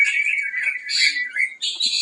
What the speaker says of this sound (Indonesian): Ya masteran burung-burung biasa lah.